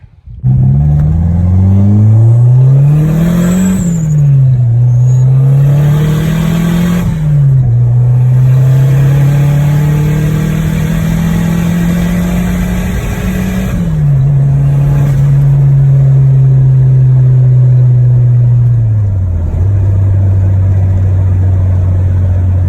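Car engine being driven for tuning, loud and close, revving up through several gears with rising pitch sweeps, shifts, and long steady cruising stretches, no talk.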